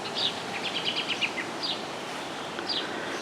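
Small birds chirp in a garden in the morning, with short bright tweets and quick trills scattered over a faint outdoor hiss and no talking.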